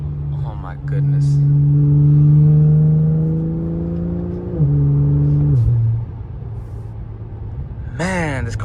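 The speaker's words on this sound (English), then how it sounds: "this car sounds so good because now without like the valve dumps, I can finally hear my like turbo" A turbocharged stage 2+ BMW 535i engine revs up with a rising turbo whine, holds, then drops off, followed later by a short burst of revving; a voice talks faintly.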